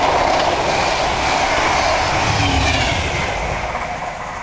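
A London-bound passenger train races past Needham Lake, a loud, steady broadband rush of wheels and air sustained close by throughout, easing slightly toward the end.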